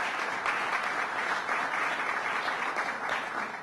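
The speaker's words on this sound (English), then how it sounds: "Let's give him a round of applause, Lieutenant Governor Bob Duffy." An audience at a swearing-in ceremony for new commissioners claps for the Lieutenant Governor. The applause is sustained and moderately loud, with dense clapping throughout that eases slightly at the end.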